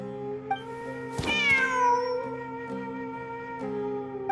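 A cat in the video game Genshin Impact lets out one clear, drawn-out meow with a falling pitch, heard over a soft, sustained tonal game music background.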